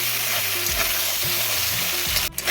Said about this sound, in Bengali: এদিকটায় মশলাটা কষানো হচ্ছে